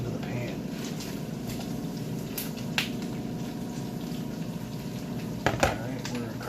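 Quartered Brussels sprouts go into a hot pan and set off a steady, moderate sizzle, with a few sharper clicks and pops near the end.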